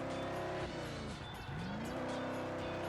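Eleanor muscle car engine from Ford Racing 2, droning loudly with a quick drop in pitch as it lifts or shifts, then climbing again as it revs back up, close and alone.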